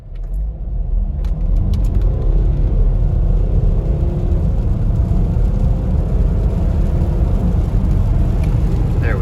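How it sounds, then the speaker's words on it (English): A car engine rumbles and accelerates hard from 0 to 60 on a wet road, the loud, steady roar of the motor and road noise rising as it picks up speed. "I'm going to just do a wet 0 to 60 video."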